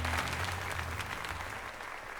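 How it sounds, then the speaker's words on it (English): Stock applause sound effect in Pokémon Legends: Z-A, steady applause from a crowd, a dense wash of clapping at even volume throughout. "You think that was a stock applause sound effect they used?"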